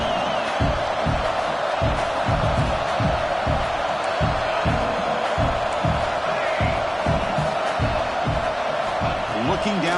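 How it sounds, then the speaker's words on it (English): A football stadium crowd roars in a continuous wash of cheering and noise, urging the home defense on during a red zone stand, with rhythmic thumps pulsing through the din and broadcast commentary talk on top. "This crowd is trying to inspire this defense to make a big red zone stop."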